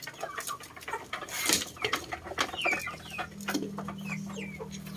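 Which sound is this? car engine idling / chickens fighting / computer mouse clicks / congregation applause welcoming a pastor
chickens fighting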